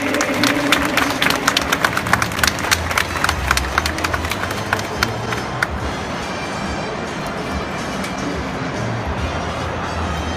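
An audience at a crime-prevention carnival event claps in a loud, crisp burst that gradually thins and fades into a rumbling, noisy background of crowd murmur over roughly ten seconds.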